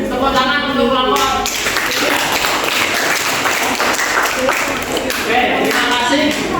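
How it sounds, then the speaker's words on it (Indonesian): A classroom group gives a dense, sustained round of applause for a team of students after their dance-formation presentation. The clapping stays loud and even from start to finish, with some voices mixed in. "kita beri tepuk tangan untuk kelompok"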